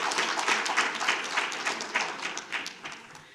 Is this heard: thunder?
no